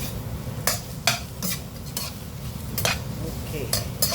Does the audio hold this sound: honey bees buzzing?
no